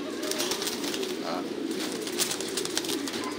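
Pigeons cooing in an open-sided farm loft of caged breeding doves, with a steady low murmur of several birds and faint wing or cage rustles throughout.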